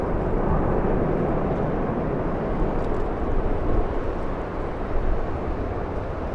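An airliner departs Los Angeles International Airport into a headwind, a loud, steady, broadband jet roar that holds for several seconds with slight swells and no voices.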